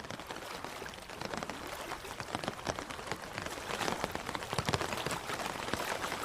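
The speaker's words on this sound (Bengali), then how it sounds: "আর সঙ্গে প্রবল বৃষ্টি আর বাতাসের শোঁ শোঁ শব্দ" Heavy rain and wind on a stormy night, as a cartoon sound effect: a dense, steady downpour hiss with scattered sharper drop hits that swells slightly louder in the second half, with no voices.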